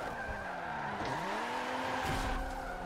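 Race car tires squeal and slide in Forza 7 during a race at Circuit de Spa, played on a Logitech G920 wheel. A continuous high skid whine rides over a wavering engine tone, steady and fairly loud throughout.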